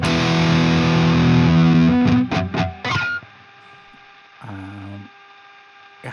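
A loud electric guitar plays through a heavy metal distortion preset in the BYOD multi-effects app, first as a thick sustained chord, then a few choppy palm-muted hits, leaving a buzzing hum and one faint distorted note.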